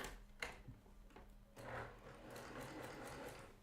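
A sewing machine stitches backwards through quilt fabric, with quiet rapid mechanical chattering in short bursts, a brief pause, then a longer steady run close by.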